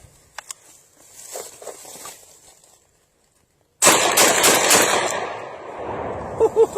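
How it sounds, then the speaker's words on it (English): Black Aces Tactical shotgun firing Federal 2 3/4 inch buckshot outdoors, a few faint distant pops at first, then a loud sharp blast that rings on and decays over several seconds. "here goes some more of that buckshot right here"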